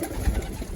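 Racing pigeons coo softly inside a loft, a brief low murmur of cooing close by with no voices.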